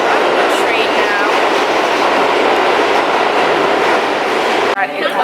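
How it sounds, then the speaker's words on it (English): Steady loud rumble and rushing roar from inside a moving train, continuous throughout with a faint squealing whine near the end and a brief drop as something shifts. "I'm on the train now."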